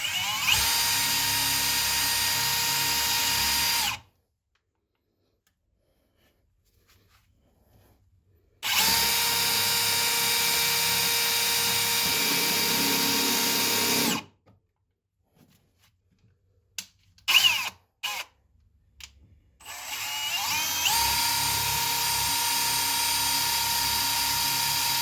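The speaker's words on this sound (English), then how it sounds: "you typically want to drill essentially the length of the fastener plus probably about 1/8 of an inch" A power drill bores pilot holes for fasteners into wooden stairs, running in long, steady, loud whirring bursts separated by silences, with short stop-start triggers near the end.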